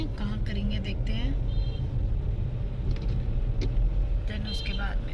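A car being driven slowly into a parking spot on a trip near Manali, with a steady low engine rumble throughout and occasional clicks and knocks while people talk in the cabin.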